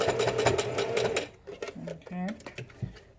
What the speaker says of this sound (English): Your sewing machine foot is what it's called.